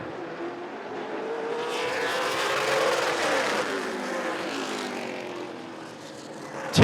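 Super late model race cars roar past at Rockford Speedway, engine note swelling as they approach then fading away, a loud continuous pass-by in the open air.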